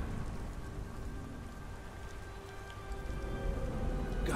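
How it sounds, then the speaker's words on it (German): Soft, steady rain in the video game Beyond: Two Souls, a quiet continuous patter and hiss with a faint low rumble underneath, swelling slightly near the end, with no voices. "Gottverdammter Regen."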